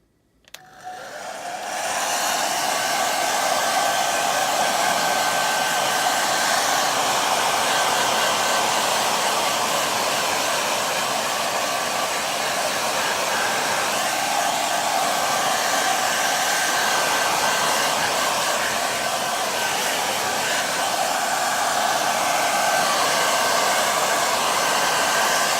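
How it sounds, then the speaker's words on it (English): A hairdryer blows steadily to warm defrosted snake food to body temperature, a loud continuous whooshing whine that starts abruptly and holds for about 25 seconds, with no other sounds. "grab the trusty old hairdryer"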